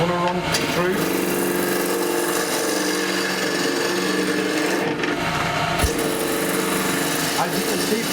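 A chisel cuts a wooden goblet spinning on a wood lathe, giving a steady, loud scraping and whirring with a few sharper catches. The hum of the lathe motor runs underneath.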